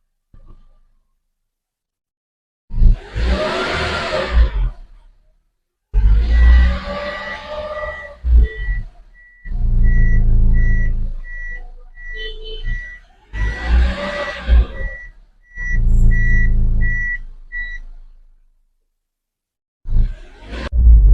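Toyota Calya / Daihatsu Sigra engine revved in repeated loud bursts after an oil change, each surge rising and falling over a couple of seconds with short idle gaps between, close up, with a faint electronic beeping during the middle revs.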